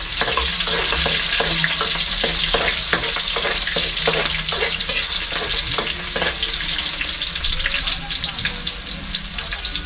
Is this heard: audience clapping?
no